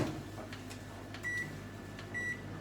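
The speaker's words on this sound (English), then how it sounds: "Right, microwave's on." A microwave oven hums steadily at low volume in a home kitchen, with a few faint high beeps or tones near the end and no talking.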